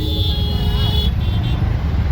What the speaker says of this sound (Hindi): तो देख लीजिए कितना ट्रैफिक है दिल्ली में।